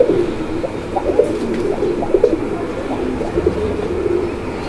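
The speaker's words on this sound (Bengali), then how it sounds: "কি কবুতর এগুলো? একটা কাকজি, একটা হচ্ছে গিরিবাজ।" A pair of pigeons, one Giribaj and one Kakji, offered for sale, coo in low, soft murmurs close by over a constant background hum.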